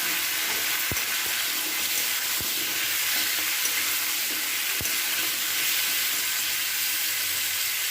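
Food sizzling in a pan with salt and turmeric as it is stirred, a steady, close frying hiss broken by a few sharp scrapes or taps of the spoon, with no talk.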